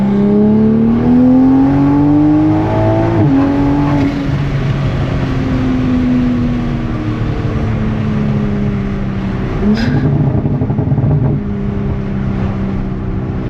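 A Toyota Supra with a Boost Logic valved exhaust and catless downpipe revs loudly and steadily with a deep exhaust tone, the pitch climbing, dipping and rising again as the throttle shifts.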